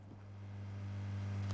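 A car in a video game drives close by, a steady low engine drone that builds slightly in loudness over a second and a half, with no talk over it.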